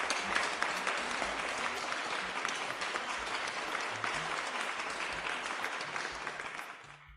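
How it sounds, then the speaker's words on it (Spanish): At the opening keynote of a digital-industry conference in Argentina, an audience greets a guest speaker with a large, crisp burst of clapping that holds steady and then tapers off at the end. "Un aplauso, por favor."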